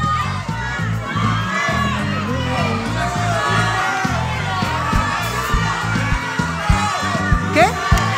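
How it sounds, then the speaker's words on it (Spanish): An improv comedy audience at an anniversary special shouts out names all at once, a loud, dense wall of overlapping voices and cheers filling the theater for several seconds. "Griten nombres y yo miro a ver cuál."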